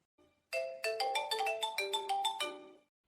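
A phone ringtone plays a bright melodic pattern of quick repeated tones, loud and close, for a few seconds alone in a quiet room.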